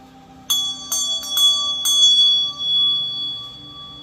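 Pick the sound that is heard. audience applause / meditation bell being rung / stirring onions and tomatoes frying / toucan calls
meditation bell being rung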